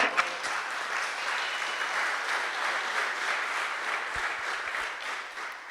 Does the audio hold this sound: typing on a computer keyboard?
no